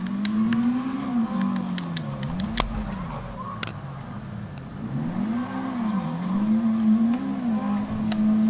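A car in GTA 5 Online drives steadily, its engine note rising and falling through repeated gear changes and revs, with faint game sounds over the top and no talk.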